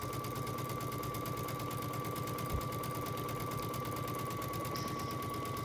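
A sewing machine stitching a buttonhole, a fast even mechanical chatter of needle strokes running steadily throughout with a constant motor hum and one brief knock midway.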